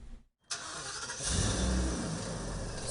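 A diesel school bus engine starts after a brief silence, then settles into a steady, loud, close rumble that runs to the end.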